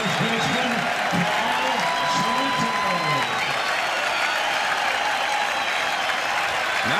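A baseball crowd at Oriole Park at Camden Yards stands cheering and applauding, a dense steady roar and clatter of clapping running under a broadcaster's voice.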